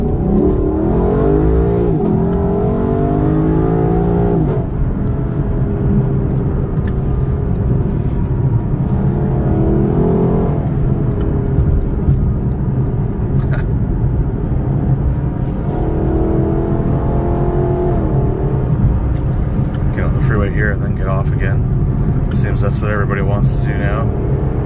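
A Lexus LC500 V8 accelerates hard onto a freeway, its engine note climbing steadily through several gears with brief dips at each shift, loud and continuous over steady road noise.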